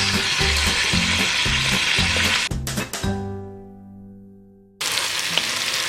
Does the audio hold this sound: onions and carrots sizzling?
yes